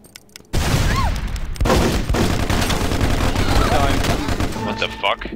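Rapid bursts of gunfire in a competitive shooter match, dense overlapping shots and blasts with a few sharp reports, under players' voices talking.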